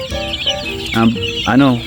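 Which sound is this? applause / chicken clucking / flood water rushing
chicken clucking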